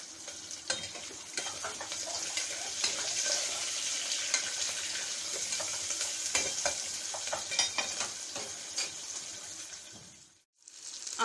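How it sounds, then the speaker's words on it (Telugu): Chopped onions fry in a pan until golden for Hyderabadi bagara rice, a continuous close sizzle with occasional stirring clicks, briefly dropping out near the end before resuming. "ఆనియన్స్ కూడా గోల్డ్ కలర్ వచ్చేటట్టు వేయించుకోవాలి"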